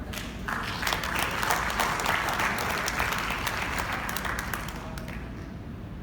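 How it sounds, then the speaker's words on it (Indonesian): Applause rises from a national assembly audience after the gavel is handed to the assembly chair, a thick, steady roll of many hands clapping that tapers slightly at the close. "Tepuk tangan."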